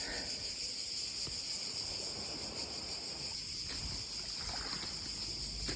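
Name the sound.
cicadas chirping in Greece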